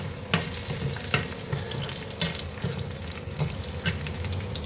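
Spices frying in a pan for a traditional sorakaya (bottle gourd) roti pachadi, a steady close sizzle with sharp stirring scrapes and clicks scattered throughout, no voices.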